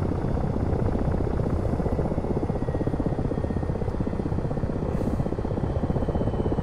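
A Ka-50 coaxial-rotor helicopter in a flight simulator game drones with a loud, steady rotor chop and turbine whine, close and unbroken as it turns sideways in flight, with no talking over it.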